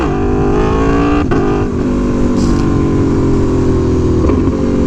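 Aprilia Tuono V4 Factory motorcycle engine loud and close, revving hard in second gear for a clutch-up wheelie, the steady rising drone dipping briefly at a shift or throttle change, then building again.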